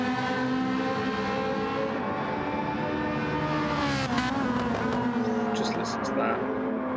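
Lofty's Ferrari GT car in a sim racing endurance game revs loudly and drops through the gears in a sharp, aggressive downshift, its engine harmonics sweeping around the four-second mark amid steady engine drone.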